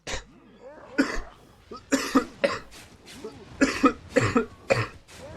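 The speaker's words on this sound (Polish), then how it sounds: "nie tylko co chwilę kaszel słychać" A series of sharp, repeated coughs in quick bursts, close by, with some throat clearing between them.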